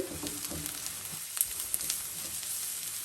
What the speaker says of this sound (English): we're going to add 3 cloves of minced garlic. We just saute that for a minute or so